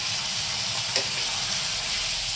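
Ridge gourd pieces fry in a pan with a constant close sizzle and crackle, broken by a single soft stir near the middle.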